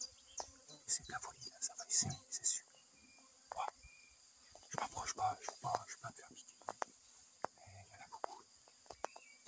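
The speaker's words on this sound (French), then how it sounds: "Ça, c'est les abeilles noires." Buzzing of black bees swarming close by, about five metres away, rising and falling in bursts with scattered rustles and faint murmuring in between.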